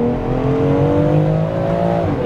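A BMW X3M Competition pulls hard, its loud, close engine drone climbing steadily in pitch before a sudden drop near the end as it shifts gear, with no voices over it.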